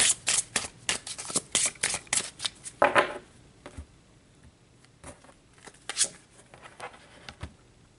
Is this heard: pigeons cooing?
no